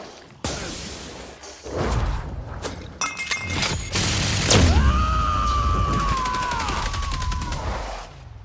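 Gunfire rings out in The Outer Worlds, a burst of sharp, loud shots and shattering crashes from a shotgun firefight, followed by a long, whooshing mechanical whine that sweeps and trails off near the end.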